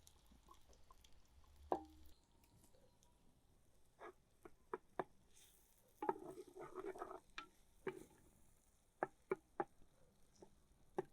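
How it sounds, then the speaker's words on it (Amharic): Garlic sizzles in hot oil in a clay pot while shiro is being made, a quiet crackle of sharp, scattered pops and brief spitting bursts with no talking. "ዘይቱን ትኩስ የማረግበት ምክንያት ነጭ ሽንኩርቱ ጥብስ እንዲል ነው።"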